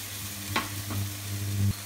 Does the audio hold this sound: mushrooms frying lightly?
yes